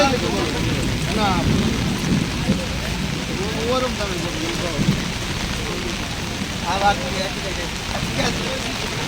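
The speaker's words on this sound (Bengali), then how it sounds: "ভাইরা বৃষ্টি অনেক" Rain pours steadily at the Mohammadpur Bosila cattle market in Dhaka during the Qurbani season. A dense hiss of drops on surfaces runs throughout, and people talk underneath it.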